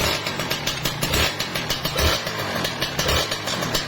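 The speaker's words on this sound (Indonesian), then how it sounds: "itu saya blayer seperti itu, supaya nanti kedengeran suara piston ada oblak atau tidak di pas RPM turun" A Kawasaki Ninja RR two-stroke engine is blipped with the throttle, giving a loud, close, raspy buzz that rises and falls in short, repeated pulses.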